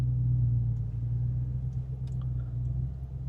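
A Range Rover Sport SVR idles off-road at tick over, a low steady engine rumble with a constant hum, close and unbroken.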